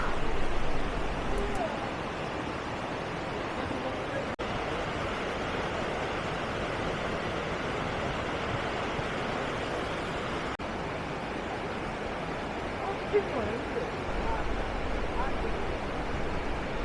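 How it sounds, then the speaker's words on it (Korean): Yongchu waterfall pours between huge rock walls, making a steady, dense roar of falling water that stays loud and unbroken throughout. "거대한 암벽 사이로 물 떨어지는 소리가 크게 들리는데 저 앞에 폭포가 용추폭포입니다."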